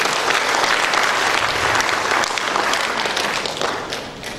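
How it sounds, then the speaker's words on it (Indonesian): Dense, loud applause from a large audience at a college graduation ceremony fills the whole stretch with steady rapid clapping, easing slightly toward the end. "Tepuk tangan untuk anak kita."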